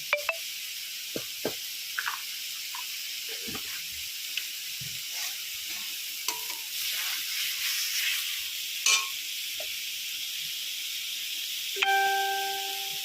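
Prawns dropped into a simmering spice masala for chingri malaikari, giving a steady soft sizzle and hiss with scattered stirring clicks and scrapes, ending in a brief tonal ring.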